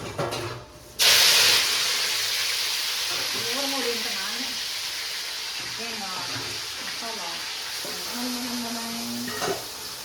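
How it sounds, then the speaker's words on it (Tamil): A pot of South Indian fish curry (kuzhambu) with curry leaves and coriander, meant for sardines, bubbles and sizzles steadily on the stove, a constant close hiss with soft bubbling under it. "நம்மளோட குழம்பு சூப்பராக வந்து கொதிச்சிருச்சு"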